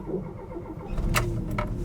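A Volkswagen 2.1 liter water-cooled boxer engine cranks and catches, then settles into a steady low running sound, fairly close and moderately loud.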